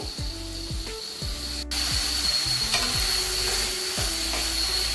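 Halved shallots sauté in hot oil for a country chicken curry, giving a steady sizzling hiss with low scraping from stirring throughout. No one speaks.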